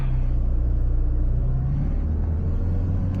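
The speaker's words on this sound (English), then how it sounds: "So clutch, first gear, accelerating," A manual car pulls away in first gear after the clutch is engaged, its engine giving a steady, heavy low rumble that hums continuously from inside the cabin.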